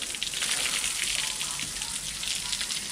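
Water sprinkled over a toy house on wheels to imitate rain, a steady hissing patter of fine droplets that stays even and fairly close throughout, with no talk.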